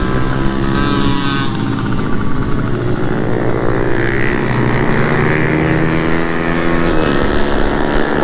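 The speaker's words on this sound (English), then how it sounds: "So now Makoto's son is on the bike." Motorcycle lapping a race track on a track day, a loud, close engine whine with rising and falling harmonic pitch as it accelerates and shifts.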